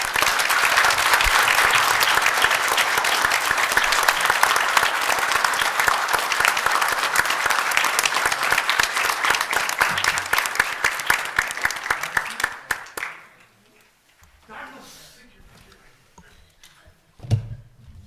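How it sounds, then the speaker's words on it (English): An audience at a Calexico, California city council meeting applauds the utility lineman crew. The clapping is dense and sustained, filling about twelve seconds before fading abruptly into a quiet room with a few faint noises. "They need a round of applause."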